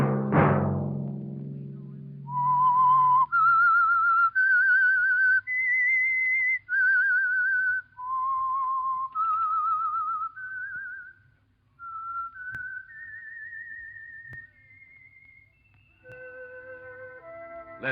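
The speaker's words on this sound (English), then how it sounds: "Let that whistle be your signal for the Signal Oil program, The Whistler" The whistled theme of the radio show The Whistler, a lone melodic whistle rising and falling through a slow, eerie tune of held notes, clear and prominent after a brief low opening sound.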